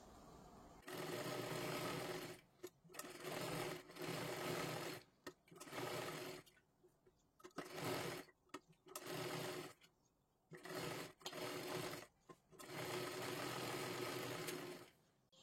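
An electric sewing machine stitching a kathpadar saree blouse runs in repeated bursts of rapid whirring, some long and some short, with brief quiet pauses between them and no voices.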